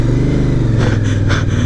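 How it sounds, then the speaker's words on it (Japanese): A Honda VTR1000SP2 large motorcycle rumbles on a forest dirt road, its exhaust a loud, steady low-pitched throb with slight surges, close by and without talk. "大型バイクの排気音じゃないでしょこれ"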